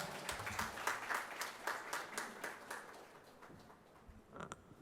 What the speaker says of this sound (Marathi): मी म्हणेन पुन्हा एकदा जोरदार टाळ्या होऊ देत सरांसाठी